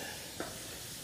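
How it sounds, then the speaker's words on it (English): Butter sizzles in a grill pan, a soft steady hiss with one brief flare, heard faintly and alone. "Oh God, hear the sizzle."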